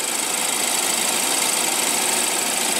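A 2015 BMW X3 with a 2.0 L turbocharged inline four-cylinder engine runs steadily, a constant close, dense mechanical drone with no change in pace and no voices.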